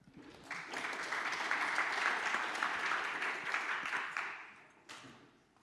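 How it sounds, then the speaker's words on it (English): An audience applauds for several seconds, a dense wash of clapping that swells, then fades out with a brief last burst. "Let's have a round of applause for Raphael."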